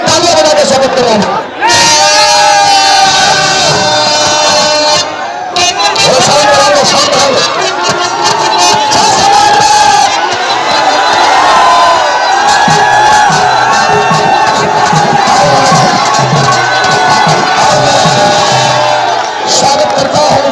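A large crowd at a political rally claps and cheers to welcome guests, a dense continuous roar of applause, whoops and shouts that holds loud and close for about twenty seconds, with voices mixed in.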